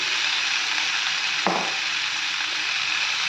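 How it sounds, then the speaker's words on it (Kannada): Deep-fried prawns tipped into a hot tempering of oil and coriander leaves in a pan, a steady loud sizzle with a sharp burst as they land, then continuous frying hiss. "ಈಗ ನಾನು ಡೀಪ್ ಫ್ರೈ ಮಾಡ್ಕೊಂಡಂಥ ಪ್ರಾನ್ಸ್ನ ಆ್ಯಡ್ ಮಾಡ್ತಾಯಿದ್ದೀನಿ"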